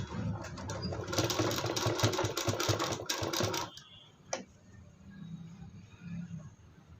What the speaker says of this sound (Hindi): देखिए अब इस पे सिलाई लगाएंगे इसके किनारे किनारे